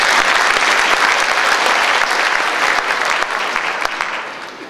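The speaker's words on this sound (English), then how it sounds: "They deserve a round of applause" Crowd at a political caucus event bursts into loud, close applause, a thick continuous clatter of hands with occasional sharp claps, easing off slightly at the end.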